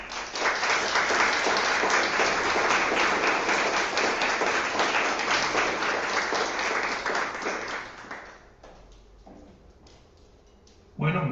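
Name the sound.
audience applause for the speaker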